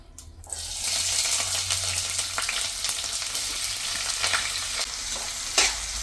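Chopped onions and green chillies dropped into hot oil and stirred, giving a loud, steady crackling sizzle close by with occasional scraping clinks and no voices.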